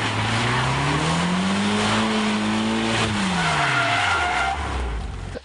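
A car drifting fast around pylons on a practice course, its tires squealing loudly in a long continuous skid while the engine note rises and falls, close and sustained for several seconds.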